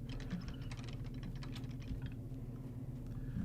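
Continuous rapid computer keyboard typing, close and fairly quiet, with a patter of uneven key clicks and no voices; the mic sits behind a piece of wood blocking the keyboard.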